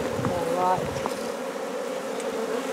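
Bees buzzing around a bee box, a close, steady droning hum with a few louder passes near the start, over faint background noise.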